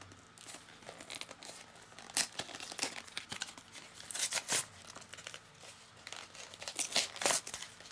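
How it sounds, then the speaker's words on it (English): Flashlight kit packaging being torn and ripped open by hand, a series of loud, irregular tearing and crinkling bursts close up, separated by quieter handling noises, with no talking. "Usually just destroy these packaging here just to get to these things."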